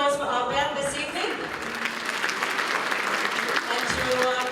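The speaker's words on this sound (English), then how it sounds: "a big round of applause for our band this evening" Steady applause for the band from an awards dinner audience at an exporter awards event, dense clapping throughout with some voices and a brief musical tone at the start.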